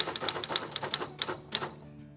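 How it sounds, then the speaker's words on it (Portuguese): An old manual typewriter clacks through a quick run of sharp, evenly spaced keystrokes, close and dry, with no voices over it. "a velha e boa máquina de escrever"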